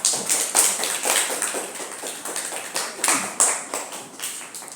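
Schoolchildren in a social studies class clap together after a lesson on continents, with a rhythmic series of fairly close, moderately loud claps at a steady beat.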